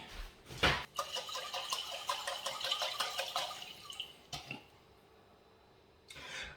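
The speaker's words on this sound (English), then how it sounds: "I'll even stick some water in the jar and add the water as well" Water pours into a glass jar while a lunch is being prepared, a soft, steady splashing trickle lasting a few seconds, with a couple of sharper knocks and a brief drip near the end.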